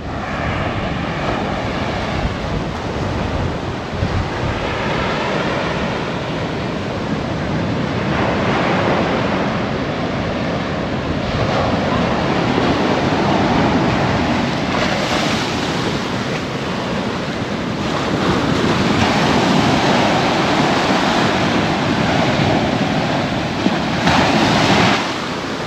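Big ocean waves crash and surge repeatedly onto a beach at Tangalle, Sri Lanka, a loud, continuous roar of surf with swelling breakers and heavy wind buffeting the microphone.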